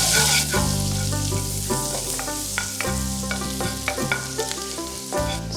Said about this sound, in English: I'm adding my garlic first. Saute for some time.